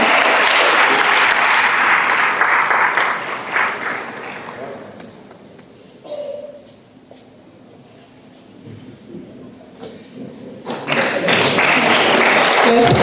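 A graduation ceremony crowd claps for the top student, a loud dense burst that tapers into a quiet lull with stray claps and faint murmurs, then surges back into strong applause.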